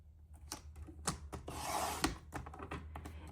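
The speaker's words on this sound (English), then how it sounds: "I'm going to cut the top off." Scissors or a trimmer cut through a sheet of scrapbook paper, giving a quiet run of close, short rasping snips and one longer rubbing cut, with no talking.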